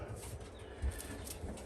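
Pigeons in a breeding loft coo softly, with low, faint murmurs and one slightly louder coo partway through against quiet background noise.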